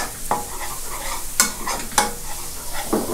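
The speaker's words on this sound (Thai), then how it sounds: "ผัดจนหอมแดงเขาเริ่มแห้งหน่อยๆนะครับ" Shallots and garlic stir-fry in a pan with a continuous sizzle, punctuated by a few sharp spatula scrapes and clacks at close range, no voices.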